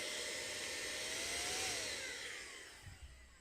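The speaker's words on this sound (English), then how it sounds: "I'm trying to talk over the dryer thingy." A dryer blows with a steady loud whoosh that holds evenly, then tapers off slightly near the end, alone with no talking.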